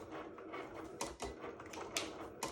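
A Cricut machine drawing with an infusible ink pen gives off faint, uneven mechanical clicks and whirring taps, close but quiet, with brief sharp knocks as the carriage moves.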